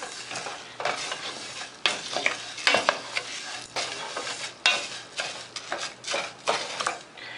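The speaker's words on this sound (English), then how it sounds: "So I'm gonna go ahead and put my cup of rice in there and just move it around." A cup of rice frying in oil gets stirred around a pan, with rhythmic bursts of scraping and sizzling and the clink of a utensil on the pan, and no speech.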